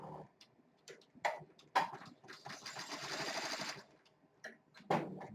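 An Avance 1501C embroidery machine starts and stitches, with a few sharp clicks and taps leading into a steady rapid needle chatter for a couple of seconds, then more isolated clicks, close and fairly quiet.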